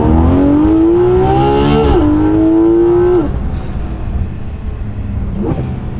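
A Porsche 991.2 GT3 RS's naturally aspirated engine revs hard in first gear, its pitch climbing steeply toward 9,000 rpm, dipping at a brief shift, then rising again before cutting off into a lower, rumbling idle.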